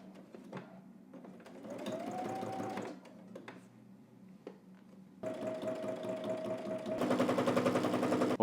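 Sewing machine stitching down a folded seam on a jacket, heard in a couple of short runs separated by pauses and handling, then a longer steady burst that grows louder toward the end.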